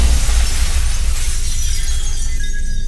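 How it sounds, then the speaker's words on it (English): A loud, sustained crash of shattering mirror glass for a tabletop role-playing game scene, dense and bright from the start and fading slightly as fragments keep tinkling, with no voices. "the mirrors shatter"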